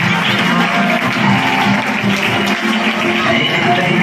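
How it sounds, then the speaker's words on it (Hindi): Loud, dense applause from an audience for a performer portraying Mahatma Gandhi at a school stage event, a steady wash of clapping with crowd noise and voices mixed in. "जोरदार तालियां"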